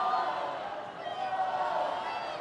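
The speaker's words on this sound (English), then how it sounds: "Crowd getting behind the home side" Rugby crowd at a Scotland v Wales women's Six Nations match roaring for the home side, a steady broad wash of cheering and shouting sustained through the whole stretch without pause.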